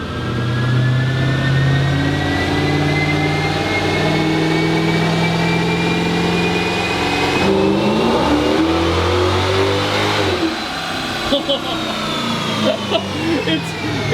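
A slammed, lowered car revs hard on a dyno, the engine droning loud and close with rising and falling pitch sweeps, and a voice can be heard speaking over it.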